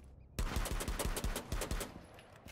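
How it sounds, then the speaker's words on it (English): Rapid bursts of gunfire in the video game Rainbow Six Siege crackle in quick succession, about a dozen sharp shots in an irregular rhythm, loud and close, with no talking. "It's just gunshots."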